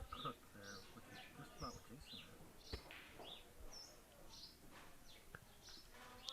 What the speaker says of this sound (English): I keep hearing a bird chirping.